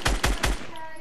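Three quick, sharp burst-fire gunshots ring out close and evenly spaced in Fortnite, followed by a fading ringing tail.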